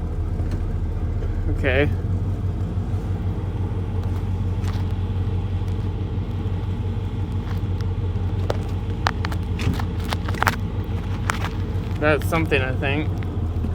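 A four-wheel drive vehicle's engine rumbling steadily while driving off-road through woods, low and continuous, with someone talking over it and short squeaky sounds now and then.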